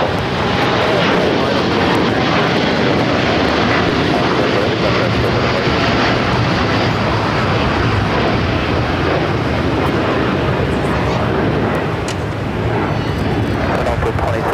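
A United airliner roars down runway 25 right at LAX on its takeoff run, a loud, sustained broadband engine rush that fills the whole stretch with little change.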